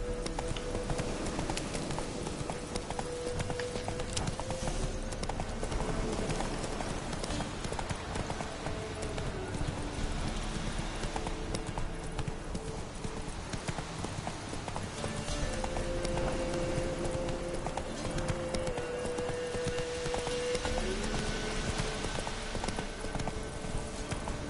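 Roach the horse gallops in The Witcher 3 video game, rapid rhythmic hoofbeats pounding steadily and close for the whole stretch, with faint game ambience and occasional tonal sounds underneath.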